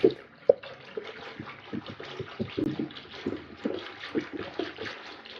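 Spiced buttermilk stirred in a vessel, a steady run of soft liquid sloshes and light clinks close by with no talk over it.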